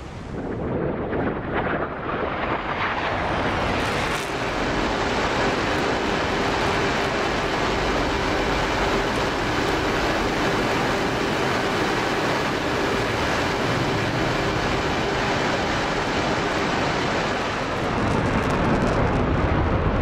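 An F-4 jet on a fast low-level bombing run in DCS World, a sustained, loud broadband engine roar that swells in and holds steady for nearly twenty seconds before shifting near the end.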